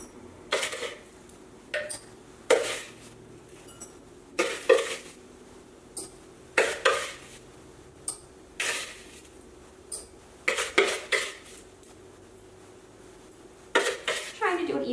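A spoon stirs homemade unicorn sugar scrub in a noisy bowl, giving repeated clattering scrapes in irregular bursts, close and fairly loud, with some quiet talk between strokes.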